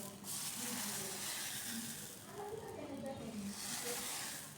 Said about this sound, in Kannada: ಆ ಒಗ್ಗರಣೆದ ಪಟ ಪಟ ಪಟ ಪಟ ಸೌಂಡ್ ಬರ್ಕೊಂತುಲೆ.